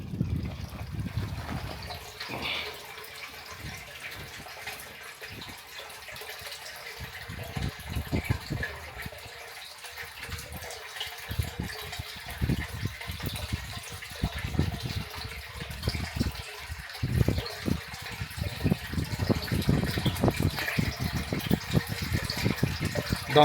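Treated water runs steadily from a tap as a sample is drawn at a water-treatment site, a continuous gushing splash that fluctuates and thickens toward the end.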